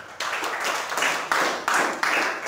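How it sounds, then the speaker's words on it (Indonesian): A church congregation claps for God during a Sunday service, a dense burst of applause in several loud rhythmic swells, near and continuous with no voice over it. "Ini kan tepuk tangan buat Tuhan."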